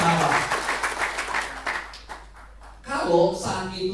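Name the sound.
audience applause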